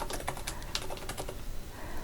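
Fingers type on a computer keyboard while entering text into a spreadsheet formula, a quick, uneven patter of soft key clicks over steady background hiss.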